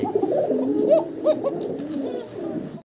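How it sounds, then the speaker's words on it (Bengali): A pair of Golla pigeons coo in soft, repeated rolling calls that sound close and steady, with no voices over them. "ভিডিও স্ক্রিনে আপনারা দেখতেছেন অসাধারণ সুন্দর এক জোড়া গোল্লা কবুতর"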